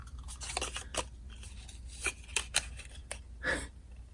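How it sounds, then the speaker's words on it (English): Backing being peeled off tear-and-tape adhesive tabs while making a small egg box, heard as faint, close crinkling and sharp little ticks scattered irregularly over a few seconds, without speech. "I'm only going to take the backing off of these 2 tabs first."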